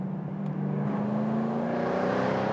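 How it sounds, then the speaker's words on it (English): A Jaguar F-Type R Roadster's 5-liter supercharged V8 drones steadily from inside the cabin, its pitch slowly rising as it pulls under load, with no talking. "What's powering this thing is a 5-liter supercharged V8 giving you 575 horsepower"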